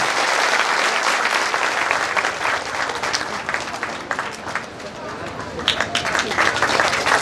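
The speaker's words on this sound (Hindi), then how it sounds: "जोर से तालियों का स्वागत करें।" An audience applauds at an Ambedkar Jayanti event at a library, with dense, sustained clapping that fades slightly midway and then swells again, while scattered voices murmur underneath.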